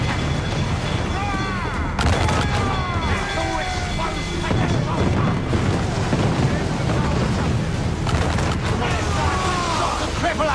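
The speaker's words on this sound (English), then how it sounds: "Mortar incoming!" Mortar explosions and heavy gunfire in a naval battle video game, a loud, continuous barrage of booms and blasts with shouted voices over it.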